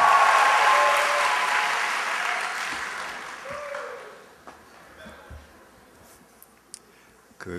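A live audience at a Korean talk breaks into loud, dense applause that slowly thins and fades over several seconds into scattered claps and quiet room noise.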